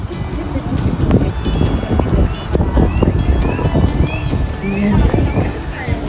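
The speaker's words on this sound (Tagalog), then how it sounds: "ang lakas ng hangin" Strong wind buffets the microphone on the hilltop at Mt. Samat National Shrine in Bataan, loud gusty roaring and rumbling throughout, with a person speaking briefly over it.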